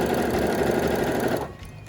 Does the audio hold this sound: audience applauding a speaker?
no